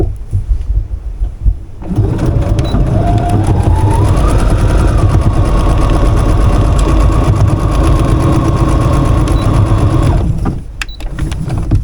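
A sewing machine runs close and loud in one continuous stretch of about eight seconds, stitching a foundation-paper-pieced quilt block, and its motor hum rises slightly in pitch partway through before it stops.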